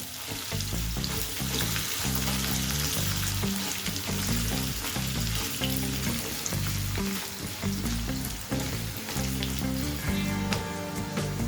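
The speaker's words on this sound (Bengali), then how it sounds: "সমস্ত কিছু হালকা করে একটুখানি ভেজে নেব" Chopped coconut pieces frying lightly in a pan for a Bengali rice dish, a steady, dense sizzle with faint stirring clatter running evenly throughout, close and continuous with no talk.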